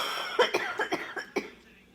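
A smoker's cough done in the manner of a 90-year-old, likely a person imitating it: a quick run of five or six harsh, raspy bursts in close succession, close and clear, trailing off into quiet.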